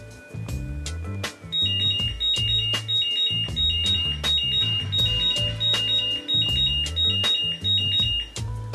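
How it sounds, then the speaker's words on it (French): An AVIO-Racing battery charger signals the end of charge with a run of repeated high electronic beeps in a steady pattern, heard over loud rhythmic background music with heavy bass. "En fin de charge, le chargeur AVIO-Racing émettra plusieurs bips sonores"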